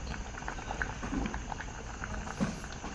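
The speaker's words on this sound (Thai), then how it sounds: "กำลังต้มหอมๆทุกคน" Beef koi simmering in a pot, a steady low bubbling boil with scattered soft pops and gurgles, close and continuous, with no voices.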